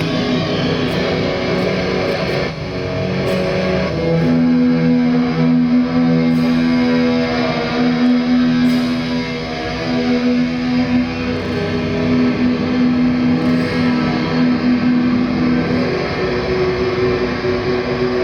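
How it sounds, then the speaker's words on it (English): Electric guitar through Seymour Duncan Super Rica fuzz and Silver Lake reverb pedals, thick fuzz distortion and a wash of reverb, sustained notes ringing and blending into a dense, echoing drone. "So fuzz and reverb together."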